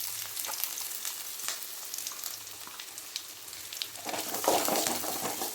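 Chopped large onions frying in hot oil give a steady close crackling sizzle with fine spitting pops, growing denser and louder toward the end; no one speaks.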